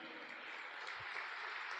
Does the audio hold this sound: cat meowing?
no